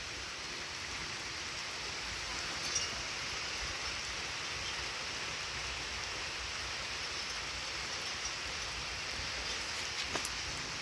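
Steady rain falls over flooded rice paddy fields, a constant even hiss with no break, a few faint distant knocks and no voices.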